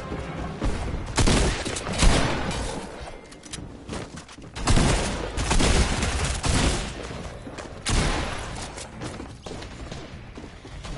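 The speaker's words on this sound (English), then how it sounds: "I have an SMG shooting him, crouched." SMG fire from the Fortnite video game comes in several loud rapid bursts separated by brief lulls, close and harsh, with crashing impacts mixed in.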